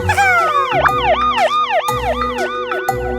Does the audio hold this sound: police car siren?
yes